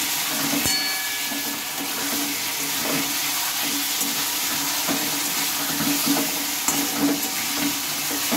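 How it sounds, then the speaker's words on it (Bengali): Fried potatoes are stirred into a spice mixture in a pan, giving a steady close sizzle with scraping stir sounds and a few sharp utensil knocks, no talk. "ভেজে রাখা আলুগুলো দিয়ে একটু ভালোভাবে নেড়ে চেড়ে নিতে হবে।"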